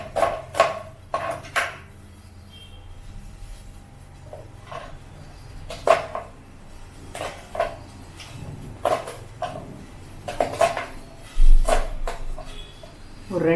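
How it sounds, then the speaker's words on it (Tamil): A knife chops beetroot and onion on a kitchen board in scattered, sharp taps, sometimes in quick short runs and sometimes single, close and moderately loud against a quiet room. "நம்ம வந்து பீட்ரூட்டுக்கு வெங்காயமும் பீட்ரூட்டையும் கட் பண்ணிக்கலாம்"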